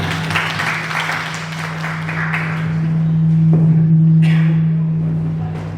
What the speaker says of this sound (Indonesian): Terima kasih, tepuk tangan semua.